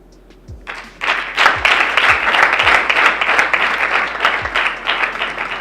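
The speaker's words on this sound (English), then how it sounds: "A hand of applause once again, ladies and gentlemen." A crowd claps for an award winner at a university capital market challenge awarding ceremony, the applause swelling in after a quiet second and holding steady and fairly close, with a few sharp low thumps scattered through it.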